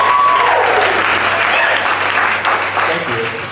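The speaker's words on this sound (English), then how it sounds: "can I get applause for being gay?" Comedy club audience breaking into applause and cheering at a stand-up show, a loud dense wash of clapping that gradually thins out over a few seconds.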